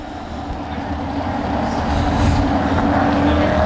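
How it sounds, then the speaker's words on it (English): USA Modified race cars circling O'Reilly Raceway Park at Indianapolis behind a CRA pace vehicle before the white flag, a continuous engine drone that swells slightly louder over the final seconds. "The CRA pace vehicle leading around the USA modified field tonight."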